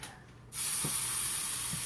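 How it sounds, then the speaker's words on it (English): Fajita meat sizzles in a hot pan, a sudden steady broadband hiss that starts abruptly and holds loud and even, with a couple of faint low knocks beneath. "I hear the sizzle."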